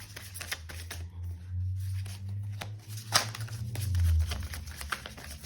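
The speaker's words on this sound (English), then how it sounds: "I'm not shuffling great today" A deck of tarot cards being shuffled by hand, rapid riffling flutters and soft slaps in uneven bursts, close and fairly loud, no talking.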